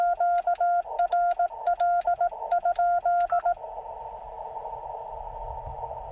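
Morse code CW tones from a ham radio transceiver working the 17 m band during a portable Jeep park activation: a steady keyed tone in short and long elements for a few seconds, then soft band hiss.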